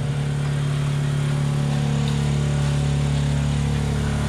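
A 2007 Sprinter van engine with bad piston rings, which keeps dying and smokes, makes a loud, steady droning hum up close without a break.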